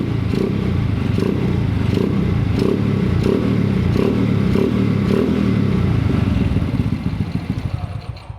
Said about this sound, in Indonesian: Kita gas, apakah dia sudah stabil atau belum